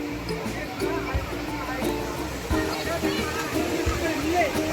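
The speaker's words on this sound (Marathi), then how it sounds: "आणि समोरच दिसतो तो धबधबा." Water from a monsoon-season waterfall at Malanggad pours in a steady broadband rush, with people talking over it.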